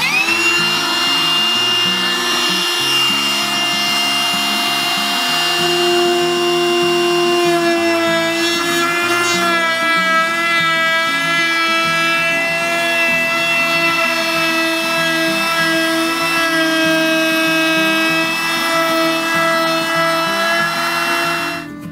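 A wood router whines at a steady high pitch rounding over wood edges, running loud and close for the whole stretch with only slight shifts as it cuts.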